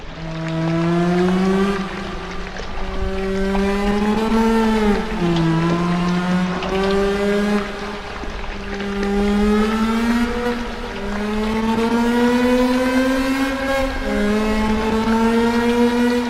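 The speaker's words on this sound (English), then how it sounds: "That's another thing you can do with these is do some car sounds." Car engine sounds played back from a looped cassette on a Tascam 414 portastudio, a steady revving drone with rising and falling pitch sweeps that cycle repeatedly, loud and alone without talk.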